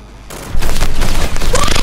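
Heavy shotgun blasts and dense gunfire from a Call of Duty: Infinite Warfare 1v1 match, loud and continuous after a quieter opening half-second, with one brief dip near the end.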